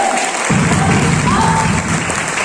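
Strong applause breaks out from an audience at a national tour event, a burst of many hands that starts abruptly after a brief quiet moment and carries on loud and dense to the end.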